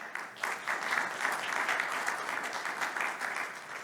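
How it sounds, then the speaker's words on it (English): Steady audience applause fills the room, dense clapping holding at an even level throughout with no voices breaking through. "Big applause for David."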